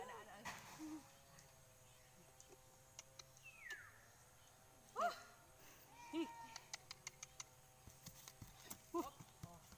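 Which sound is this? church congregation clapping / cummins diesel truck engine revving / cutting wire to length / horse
horse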